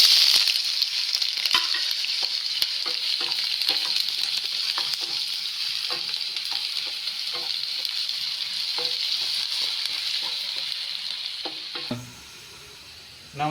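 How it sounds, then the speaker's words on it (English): Chopped onion fries in a pan for chicken curry, a steady loud sizzle with frequent stirring clicks. It runs about twelve seconds, then drops away to near quiet. "Now I add some chopped onion."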